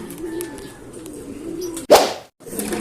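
Racing pigeons arriving at the loft during a summer fun race, with a sharp flutter of wings as a bird lands close by, framed by faint cooing and soft background noise.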